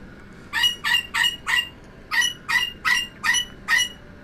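A pet bird lets out a run of loud, harsh squawks, about ten in a row with a brief gap midway, close and clear over a quiet room.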